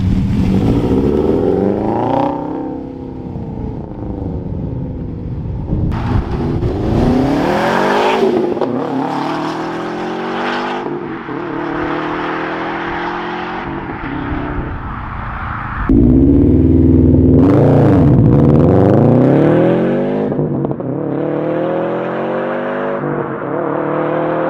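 Subaru STI Type RA fitted with a Magnaflow catback exhaust accelerating hard, loud rising engine revs climbing through gears with brief drops between shifts, close and sustained throughout.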